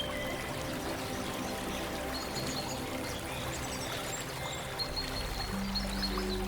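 Water from the Nile splashes against muddy riverbanks, a steady, close rush of flowing, pouring water that stays fairly loud throughout with no voices.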